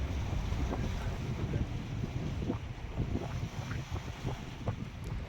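A cruise ship's tender boat out on the open sea, with a steady rumble of engine and water rushing past under heavy wind buffeting the microphone, continuous throughout.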